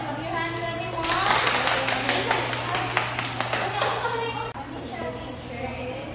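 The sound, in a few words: class clapping hands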